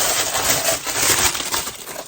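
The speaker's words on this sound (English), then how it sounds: "I'm going to unwrap it right now." Thin aluminum tin tumbler being unwrapped, with a continuous crinkly rustle of wrapping and occasional light metallic clinks, close and steady.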